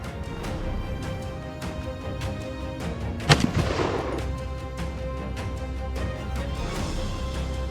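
A hunter's rifle fires a single loud shot at a bear, a sharp bang midway through with a short rumbling tail over a dense, steady background rumble.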